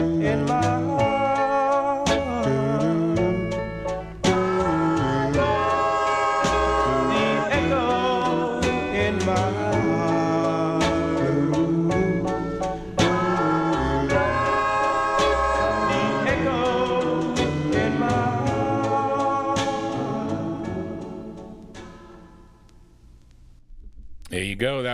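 A 1962 doo-wop record on the Columbia label, with a lead singer: a full vocal group over a steady band, loud and continuous before fading out at the end.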